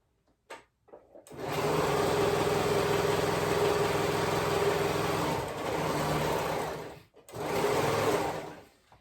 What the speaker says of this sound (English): sew those side seams together